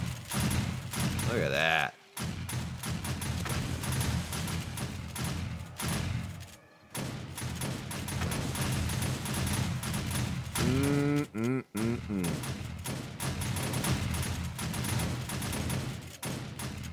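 Automatic turrets in 7 Days to Die fire nonstop at a zombie horde, a dense, loud, continuous barrage of rapid shots with brief pauses, while someone talks over it.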